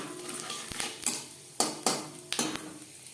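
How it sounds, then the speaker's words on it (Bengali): Panch phoron (five-spice mix) frying in oil in a wok, heard as a soft sizzle punctuated by several sharp metallic clinks and scrapes of a utensil against the pan. "কড়াইতে আবারও তেল দিয়েছি, দিয়ে দেবো 5 ফোড়ন।"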